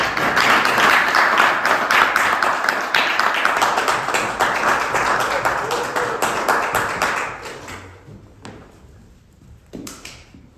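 Audience at a panel discussion applauds the panel guests with dense, loud, steady clapping that gradually thins out and fades to a few scattered claps near the end.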